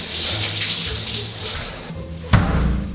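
A shower runs with a steady, broad hiss of spraying water, then a short knock or thud is followed by a fuller, heavier rush as the flow changes.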